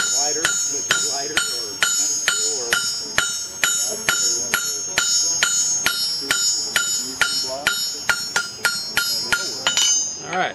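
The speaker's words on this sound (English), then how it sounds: "I was using my hammer like this" A blacksmith beats a steel leaf on an anvil with a hand hammer, about two ringing metallic strikes per second in a steady, close rhythm, with a few near-double blows and the bright ring lingering between hits.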